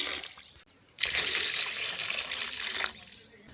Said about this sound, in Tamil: அந்த உருளைக்கிழங்கு மூழ்கிற அளவுக்கு தண்ணி ஊற்றிக்கிடலாம்